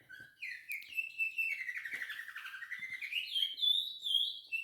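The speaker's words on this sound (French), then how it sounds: "Ah, là, vous entendez mes oiseaux." Pet birds sing nearby in a bright, continuous run of chirps and warbling whistles, loud and uninterrupted by voices.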